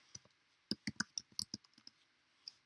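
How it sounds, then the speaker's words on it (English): Keyboard keys being typed and clicked on a computer, a quick cluster of close, crisp taps with short pauses and a last isolated click, no voices. "So I'm going to type widgets."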